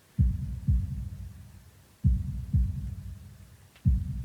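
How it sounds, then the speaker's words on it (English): Heartbeat sound effect from the Katawa Shoujo visual novel: low, thudding lub-dub pairs repeating at a slow, steady pace, loud and alone with a faint background hum. "holding my breath in an attempt to hear my heartbeat"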